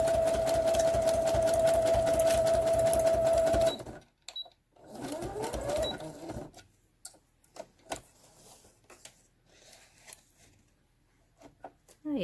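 A sewing machine stitching through a paper craft tag runs loud and fast with a steady ticking needle for about four seconds, then stops, leaving handling clicks and soft rustles.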